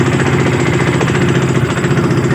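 A small 7 hp Loncin outboard boat engine runs steadily and loudly throughout, a continuous droning putter with no pauses.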